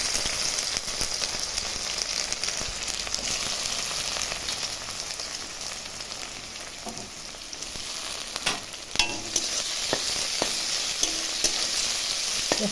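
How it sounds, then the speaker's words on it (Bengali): Onions fry in a pan with cumin, cinnamon, cardamom and cloves, giving a dense, loud, continuous sizzle with stirring clatter and spatula scrapes near the end. "পেঁয়াজটাকে ভেজে নেব।"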